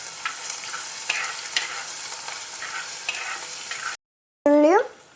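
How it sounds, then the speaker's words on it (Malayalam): Ginger-garlic paste fries in a hot pan, a soft continuous sizzle punctuated by a few light stirring scrapes, then a brief silence followed by a short rising electronic tone. "ഇഞ്ചി വെളുത്തുള്ളി പേസ്റ്റ് ഇട്ട് കൊടുക്കാം. ഞാൻ നല്ലോണം ഇളക്കി കൊടുക്കാം കേട്ടോ."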